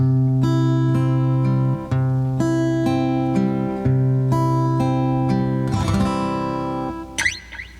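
Steady fingerpicked acoustic guitar in a backward roll pattern (pinky, ring, middle, index), notes rolling in a repeating cycle with ringing chords, played close and clear with no voices.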